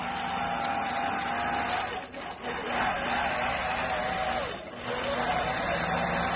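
A sewing machine stitches through fabric layered with painter's tape, giving a steady, continuous mechanical whir with a couple of brief dips, close and fairly loud with no talk over it.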